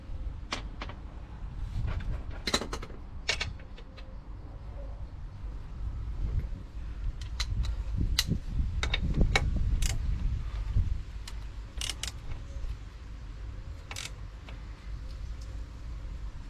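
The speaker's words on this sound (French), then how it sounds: "je finis de serrer les boulons que j'ai fait à la main tout à l'heure" Bolts being tightened by hand tool on a Yamaha Xmax 125 scooter during a service: a run of sharp, scattered metallic ticks and clicks, close by, with soft handling noise between them and no talk.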